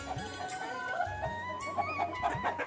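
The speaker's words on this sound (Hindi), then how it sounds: "मुर्गे और मुर्गों की आवाजें आ रही हैं" Roosters and hens cluck repeatedly inside a home full of poultry coops, faint and close-by, short calls recurring in an uneven rhythm with no talking.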